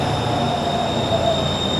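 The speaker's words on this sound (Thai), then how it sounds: "รถไฟมาเลยรถไฟโบกอีก" A long electric train in Thailand rolls past up close, a steady loud rumble with a high whistling wheel squeal running the whole time.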